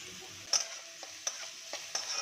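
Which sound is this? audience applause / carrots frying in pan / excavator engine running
carrots frying in pan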